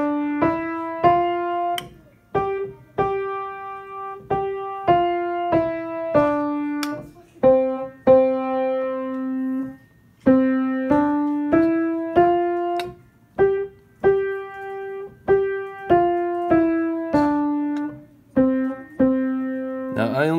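A simple beginner piano melody played with the right hand alone, single clear notes in a steady quarter-note rhythm, close and moderately soft, with no talking.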